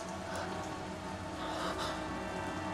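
Steady rain falls, a dense hiss of drops on a surface, continuous and fairly close with no talking.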